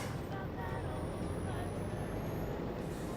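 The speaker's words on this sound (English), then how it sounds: "Hear the like turbocharger and the supercharger whirling up." A truck's turbocharger and supercharger whirl up in Farming Simulator 25, a steady heavy engine rumble with a thin whine that slowly climbs in pitch, loud and continuous.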